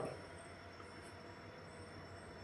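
A train pulling out of Abohar railway station on the Bathinda to Sri Ganganagar line in Punjab, heard as a steady, moderately loud rumble of wheels and carriages with a faint high whine above it.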